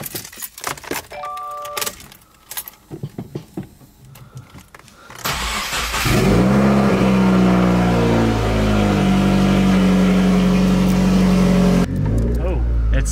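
Subaru WRX fitted with new front and rear sway bars: keys jangle and the engine starts, then a steady close engine drone with shifting tones as it pulls away, with brief voices at the start.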